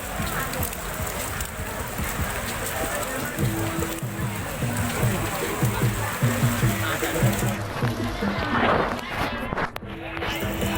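Rain falls steadily over a busy crowd at a temple fair for the Phra Samut Chedi celebration, a continuous hiss of drops mixed with shuffling footsteps, crowd murmur and tonal music or loudspeaker sounds, with voices talking throughout.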